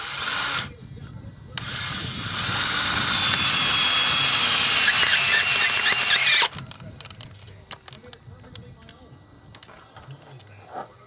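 A power drill drives 3/8-inch, inch-and-a-half bolts with galvanized washers into half tires for earthship construction, whining loudly and steadily for several seconds before stopping, followed by quieter clanks and handling noises.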